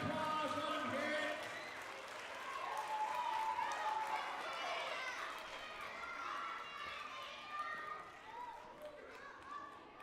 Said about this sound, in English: One big round of applause, let them hear it.